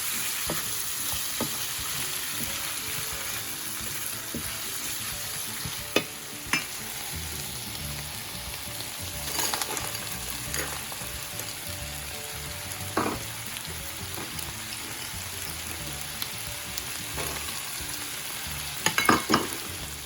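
Potatoes sizzle steadily in a pan for chicken pot pie, a continuous frying hiss broken by occasional clicks and scrapes of stirring, close and with no voices.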